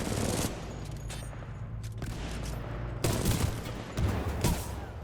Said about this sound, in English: He just shoots grenades everywhere.